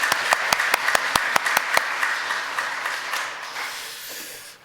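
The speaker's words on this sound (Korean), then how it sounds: "동감박수 올려드리겠습니다" A church congregation at a Sunday service claps in a quick series of sharp, distinct hand claps that blur into softer scattered applause and fade out.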